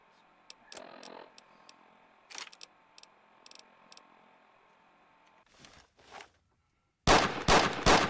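Pistol fire in a modded Fallout: New Vegas session comes as sharp, separate cracks spaced through the scene, followed by a louder burst of closely grouped shots at the end.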